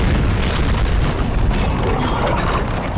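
Musket volley from line infantry in the Napoleon: Total War battle game, a dense, continuous roar of overlapping booming shots and crackle filling the whole stretch at high level.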